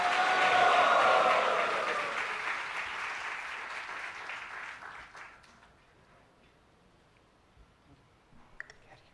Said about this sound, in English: Can we have a round of applause and a loud Hari Bol for Prabhu?